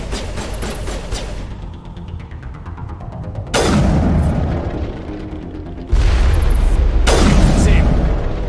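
Grenade explosions in Mass Effect: several loud, deep booms with rumbling tails, coming in uneven succession over a busy combat background.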